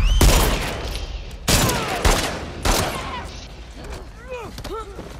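Video game gunfire in No Return, a burst of loud shots and blasts opening, then two more heavy bursts around two and three seconds, trailing into scattered mechanical clicks and tonal game effects.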